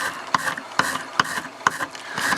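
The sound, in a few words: stainless steel wire brush scrubbing fibrous material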